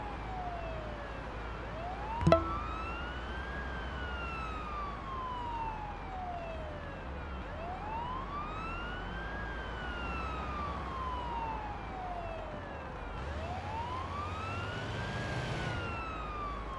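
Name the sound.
siren in a video game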